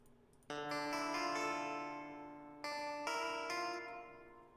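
Sustained harmonic synth-like notes with a lingering echoing tail, several chords entering and decaying into a spacious reverberant wash.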